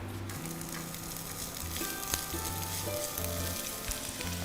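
Onions sizzle in hot oil in a pan while an iftar dish is cooked, a continuous crackling fry with occasional stirring clinks, fairly close and with no voices.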